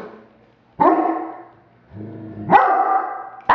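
Puppies barking indoors at home, three separate sharp barks with whiny tails spaced across a few seconds, close and loud with quiet gaps between.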